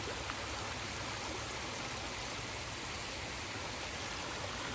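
Water flowing in a stream heard from very close beside it during a fall outing, a steady broadband rushing wash that stays constant and loud with no pauses.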